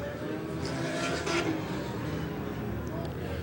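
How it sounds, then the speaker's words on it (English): Race cars at a Painesville Speedway enduro pulling away and accelerating, a dense continuous engine roar with a brief louder surge, heard under a commentator's voice. "Ethan Taylor on the loud pedal on the inside."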